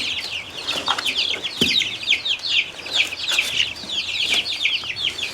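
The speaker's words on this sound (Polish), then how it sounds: "Dużo mam maransów tym razem." Marans chickens and young roosters cluck and chirp in a busy, overlapping chorus, the calls close and fairly loud and continuing without pause.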